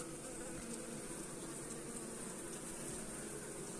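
Bees buzz in a dense, steady, faint drone throughout an open beehive inspection, with no voices.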